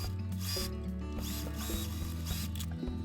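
A sewing machine stitching through a remade obi sash panel with a 1 cm seam allowance while making a drawstring bag, running as a steady mechanical whir with rhythmic clatter, close and continuous for about three seconds with no talk.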